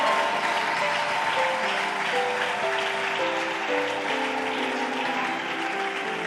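A church congregation applauds and cheers at a French-language prophetic service, dense sustained clapping with sustained vocal tones and shouts blended through it, loud and steady throughout.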